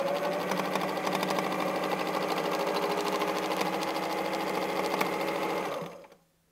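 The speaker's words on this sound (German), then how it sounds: "Wir nähen ein Stück gerade, nähen zickzack, nähen ein Stück gerade und nähen einen Kreis." A domestic sewing machine runs steadily at speed during free motion quilting, a close, continuous mechanical whir and needle rattle that winds down and stops at the end.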